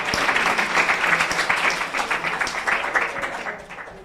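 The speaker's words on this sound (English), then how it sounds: "Let's clap for everyone." A crowd applauds steadily at a climate change prize competition ceremony, dense clapping sustained throughout and tapering slightly toward the end, with no talk over it.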